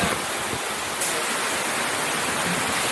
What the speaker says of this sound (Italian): è veramente una cosa strepitosa sta cascata qua